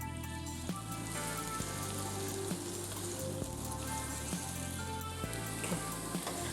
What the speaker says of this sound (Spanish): Vamos a agregar nuestra cebollita bien picaditas. Vamos a dejar dorar bien.